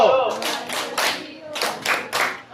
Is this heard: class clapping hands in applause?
yes